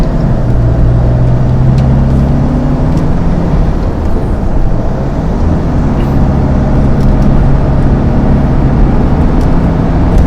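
Kia All New Carnival accelerating hard on a road test drive, a loud, constant cabin road roar with a low droning hum throughout and no talk.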